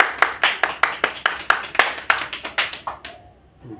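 A small class claps for a student, a dozen or so sharp, close hand claps in a fairly even rhythm that loosens and stops near the end, followed by quiet.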